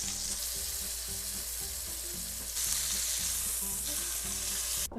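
Beef fillet sears in a hot pan for Beef Wellington, giving a steady, loud, close sizzle that runs unbroken and grows slightly brighter partway through, with no talking.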